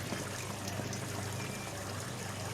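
A bonsai cutting is lowered into water, giving a soft, faint trickle and splash. It is quiet, close and brief, with no voices.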